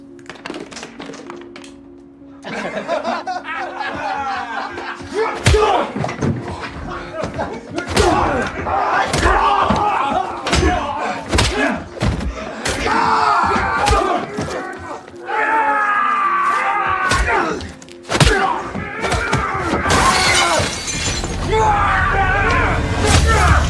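Action-film brawl on a bus: a rapid run of sharp punch and body-hit thuds mixed with shouting, groans and crowd-like yelling, loud and dense throughout.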